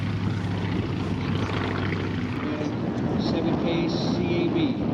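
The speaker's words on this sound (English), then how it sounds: "And another aircraft just lifting off and one coming high overhead." A light propeller aircraft lifts off at the Oshkosh airshow while another passes high overhead, a steady droning engine hum that holds at a moderate level, with a faint voice underneath.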